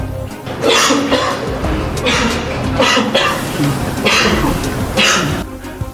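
Repeated harsh coughing bursts from someone sick with a sore throat, about five or six, spaced roughly a second apart, close and loud, with a little throat-clearing between them.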